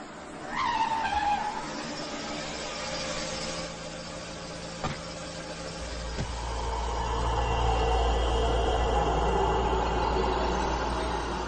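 A car brakes hard and skids to a stop, tires squealing loudly over a steady engine roar that swells into a deep rumble after the stop.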